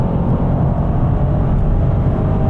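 A BMW M850 cruises at very high speed on the Autobahn, heard from inside as a loud, steady roar of engine, tyre and wind noise with no letup.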